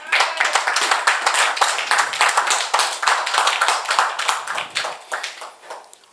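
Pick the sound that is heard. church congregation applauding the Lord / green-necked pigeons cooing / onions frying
church congregation applauding the Lord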